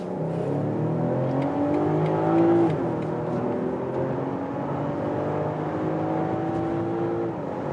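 A BMW X5 in sport mode accelerates hard on the German Autobahn from about 40 km/h, its engine note climbing repeatedly through the gears in rising sweeps, heard from inside the cabin.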